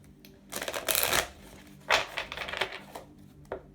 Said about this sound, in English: It wants me to shuffle a different way.